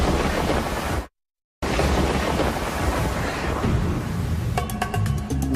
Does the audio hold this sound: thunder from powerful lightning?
yes